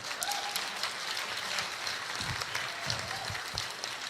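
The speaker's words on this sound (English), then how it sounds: "You can clap for that." Audience applause at a Boise State event, steady clapping from a crowd filling the whole moment at moderate volume with a few louder thumps near the end, no talk over it.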